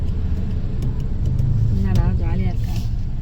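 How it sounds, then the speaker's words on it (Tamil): Road traffic beside a shop, a continuous low rumble of idling and creeping vehicles with steady engine drone, while people talk briefly over it. "கடைக்கு பக்கத்தில் இங்கே ரொம்ப டிராஃபிக்காக இருக்குது"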